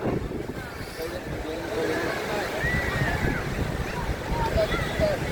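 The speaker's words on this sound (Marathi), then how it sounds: "भरती आले, पूर्ण जाम पाणी भरले." Sea waves roll in at high tide on Alibaug beach, heard from rocks by the shore as a low washing surge mixed with wind noise, moderately quiet and continuous, with faint voices and chatter in the background.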